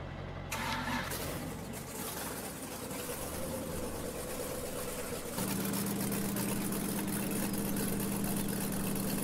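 A truck engine in Farming Simulator 17 starts up and then settles into a steady idle that grows louder and deeper near the end, with no talking.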